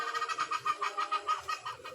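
A chicken clucks in a quick, rhythmic series of short calls, fairly faint, with no one speaking.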